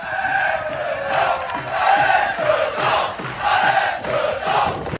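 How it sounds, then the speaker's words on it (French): A football crowd at a regional R1 match roars and chants in surging waves, loud and sustained with rhythmic swells, no talk over it. "c'est bien un public qui acclame ici une équipe de R1"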